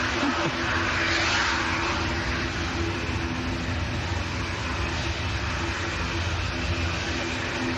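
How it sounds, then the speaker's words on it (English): A Ryanair jet airliner approaches an airport, its broad steady engine roar filling the air at constant strength with no voices over it. "this Ryanair's coming straight towards us"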